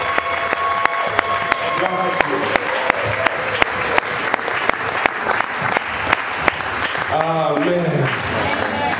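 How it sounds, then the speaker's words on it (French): A church congregation claps hard and steadily in praise of God, with sharp, rhythmic beats that fill the room, alongside cheers and a preacher's voice over the crowd. "acclamons encore très fort notre Dieu"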